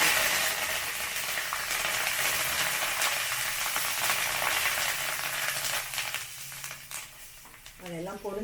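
Dried chillies, asafoetida, turmeric and curry leaves frying in hot oil for puliyodharai give a steady, dense sizzle close by, easing slightly toward the end, with some stirring.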